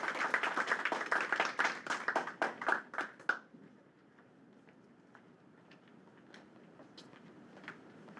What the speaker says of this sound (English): round of applause for Jacob.